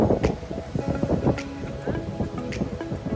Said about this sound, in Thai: ลมแรงมากฝนกำลังจะตกด้วยนะครับ